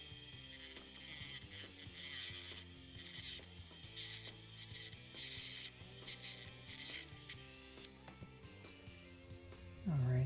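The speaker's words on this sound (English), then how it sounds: "I'm going to go ahead and take the Dremel tool and start removing this excess material that I don't need." A Dremel rotary tool grinds excess material off a Matchbox 1968 Dodge D200 line work model truck, a faint gritty buzzing in short on-and-off passes close to the microphone.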